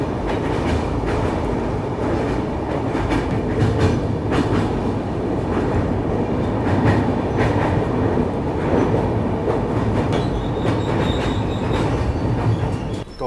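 An AC express train on the Barmer to Yesvantpur route crosses the Tapi river bridge near Surat, its steady loud rumble and rhythmic wheel clatter heard continuously from on board, with no talk.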